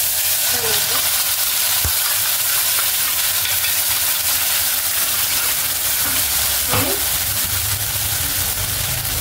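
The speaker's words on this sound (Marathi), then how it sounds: "संपूर्णपणे मसाला तेलामध्ये व्यवस्थित असा तळून घ्यायचा आहे।" Masala spice paste fries in about three spoonfuls of oil in a pan for a home-style paneer masala. The sizzle is loud and steady and continuous, with occasional soft clinks of a stirring spoon.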